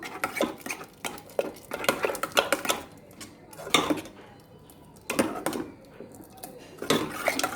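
Dal being mashed in a pot with curry leaves and crushed garlic cloves, a series of clattering scrapes and knocks of a utensil against the pot in irregular bursts, close and moderately loud with brief pauses between.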